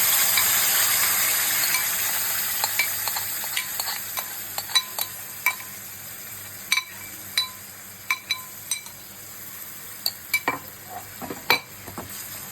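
Spice paste is stirred and fried in a pan after tempering, a faint sizzle fading under repeated metallic clinks and scrapes of a spoon against the pan in an uneven rhythm.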